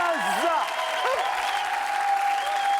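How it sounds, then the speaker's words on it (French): Studio audience on a French TV game show applauds loudly and steadily for Brazilian dancers and their choreographer, a dense continuous clapping with a voice calling out over it near the start. "On les applaudit fort"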